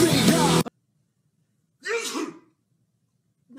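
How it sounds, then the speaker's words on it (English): A person lets out one loud, sharp sneeze right at the start, then falls silent. A shorter, softer vocal burst follows a moment later. "I sneezed."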